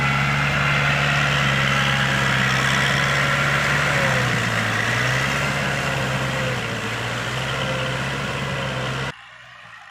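A large diesel tractor plows hard soil, its engine droning steadily at close range, the low rumble straining and dipping slightly before cutting off near the end.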